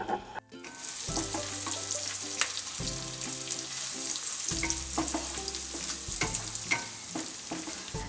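Garlic cloves and chopped onion frying in a little oil in a pan, a continuous crackling sizzle with scattered stirring taps and scrapes, near and fairly quiet, no speech, with a low steady hum underneath.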